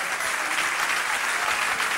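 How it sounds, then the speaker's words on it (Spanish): A church congregation applauds in steady, dense clapping that fills the whole stretch without breaks, close and moderately loud, with no voices rising above it. "le damos un aplauso al Señor de gratitud"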